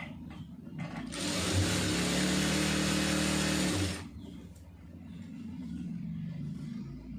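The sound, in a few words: sewing machine stitching folded fabric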